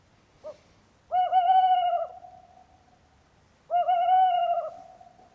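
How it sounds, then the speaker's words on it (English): Two hollow, tonal hoots from a tawny owl come a few seconds apart, each a drawn-out wavering note after a brief softer call, clear against a quiet night background. "Definitely know what that is. Tawny owl."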